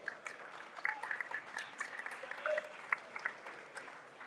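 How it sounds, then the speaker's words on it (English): Audience applause with scattered claps and cheers fills a room at the Berkshire Football Awards 2022, a steady dense ovation lasting throughout. "There's going to be a big cheer for this one."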